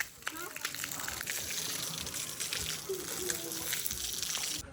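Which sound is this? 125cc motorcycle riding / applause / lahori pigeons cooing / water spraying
water spraying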